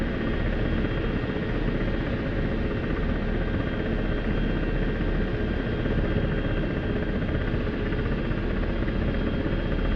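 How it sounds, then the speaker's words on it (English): Ka-50 Black Shark Russian attack helicopter in the DCS World flight simulator, a steady loud broadband rotor and turbine drone that holds constant for the whole stretch with no talk over it. "this is a KA-50. The KA-50 Black Shark. Russian helicopter."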